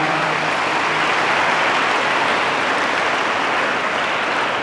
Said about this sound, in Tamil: அவங்களாம் ஜோராக கைதட்டுன்னு பார்க்கலாம்